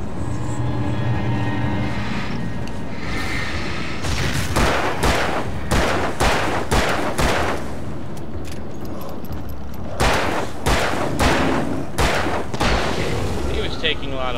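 Bursts of gunfire in the Alan Wake video game, with rapid volleys of sharp shots in clusters separated by short gaps, loud and close, under a droning background.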